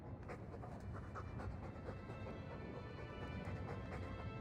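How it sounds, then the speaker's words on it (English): A dog pants steadily in the Dragon Age 2 video game, with rapid rhythmic breaths over a dense, noisy background throughout. "All that noisy dog breath, day in, day out, make him stop."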